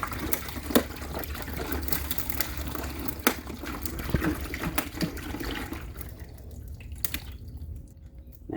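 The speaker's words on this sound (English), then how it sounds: "since we pour the water across the ice packs, that cools it off that much faster" Water poured over ice packs in a cooler for a tipi air conditioner, a soft continuous trickling and dripping with small splashes, fairly faint, tapering off near the end.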